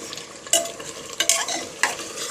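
Meat being stirred in a pressure cooker: a soft sizzle under a few distinct scraping strokes of a utensil against the pot, close and brief.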